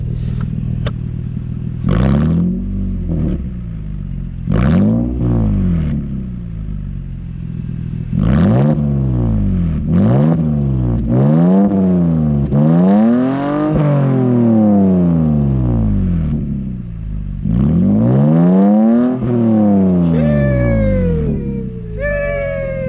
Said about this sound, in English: I'm gonna get some parked revs real quick.